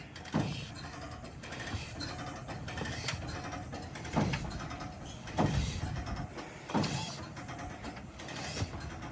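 Hand winch cranked in short ratcheting bursts to pull a Willys Jeep out in the desert, a series of clicking, grinding mechanical strokes at moderate distance with pauses between.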